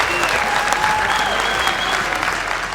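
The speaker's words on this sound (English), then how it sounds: "she's applauding in that moment" A crowd at the 2023 US Open Pickleball Championships pro singles applauds steadily and loudly, a dense continuous clapping with a commentator speaking over it.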